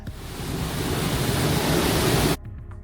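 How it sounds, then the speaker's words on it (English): Giessbach Falls in Switzerland, one of the cascades falling into Lake Brienz, heard from the path behind the falling water: a loud, steady, broadband roar that cuts off abruptly near the end. "you can walk behind the waterfall"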